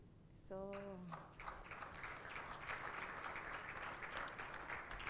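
Steady applause for a student at a certification ceremony, faint and distant, with a brief voice at the start before the clapping fills the rest.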